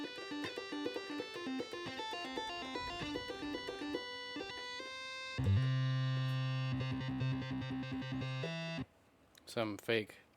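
Electronic keyboard patches imitating distorted electric guitar, with buzzy sustained chords and quick riffs in bright, harmonically rich tones, switching between voices before a short pause and a final stabbing phrase.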